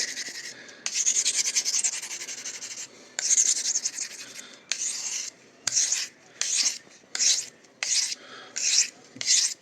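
A blade is honed on a fine, wet Hindostan sharpening stone, heard as long rasping strokes at first, then a series of shorter, regular back-and-forth scrapes, loud and close with no voices.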